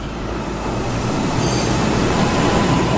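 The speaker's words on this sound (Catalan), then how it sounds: "És el metro!" Metro train rushing through a tunnel, a loud, continuous roaring rumble with a brief high wheel squeal partway through and no voices.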